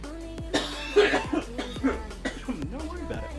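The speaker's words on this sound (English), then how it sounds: "why are you coughing all the time?" Several short coughs in quick succession, close and moderately loud, mixed with throat clearing and a voice.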